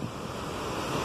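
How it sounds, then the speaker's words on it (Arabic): Sea waves roll onto Bournemouth beach in Dorset, England, a steady close wash of surf with wind noise and no pauses. "هذا هو البحر نقي ما شاء الله"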